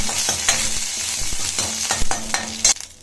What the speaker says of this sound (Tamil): உளுத்தம் பருப்பை பொன்னரமாக வறுத்துக்கோங்க